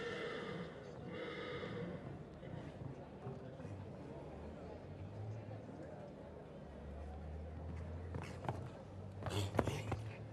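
Show jumping horse at an outdoor jumping competition, snorting and whinnying with hoof thuds growing louder toward the end, set against a distant crowd murmur and a commentator's voice.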